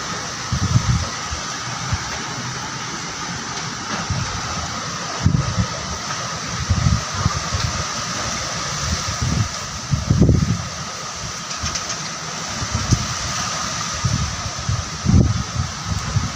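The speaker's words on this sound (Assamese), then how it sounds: "ভয়ানক বতাহ বাপৰে বাপ" Fierce storm wind from Cyclone Remal blows across Assam, a steady roaring rush broken by repeated gusty surges and rustling.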